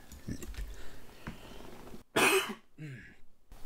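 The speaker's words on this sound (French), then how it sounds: "Ah, excusez-moi, fallait que je tousse un coup." A single sharp, close cough breaks a quiet stretch of faint rustling, followed by a short murmured sound.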